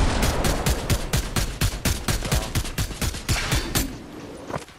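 Rapid bursts of submachine gun fire in a video game, a fast steady stream of loud, close shots with brief pauses, ending in a few scattered reports.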